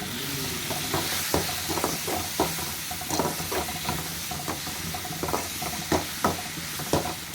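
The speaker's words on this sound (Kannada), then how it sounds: "ಈಗ ಇದನ್ನು ಚೆನ್ನಾಗಿ ಮಿಕ್ಸ್ ಮಾಡಿಕೊಳ್ಳುವ." Spatula stirring Tajank (thajank) greens in a pan, with a steady sizzle of frying underneath and repeated scraping strokes in an uneven rhythm, close and moderately loud, no voices.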